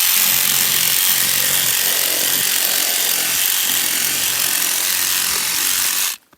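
A saw grinds steadily through moose ribs during field dressing in Alaska, a continuous rasping cut that runs loud and close for about six seconds, then cuts off abruptly.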